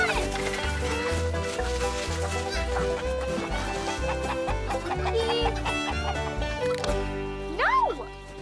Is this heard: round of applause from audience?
no